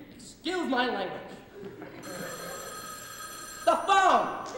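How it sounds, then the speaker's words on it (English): A telephone rings during a stage drama performance, a steady electronic ringing tone running through the middle of the clip between bursts of actors' loud speech. "The phone!"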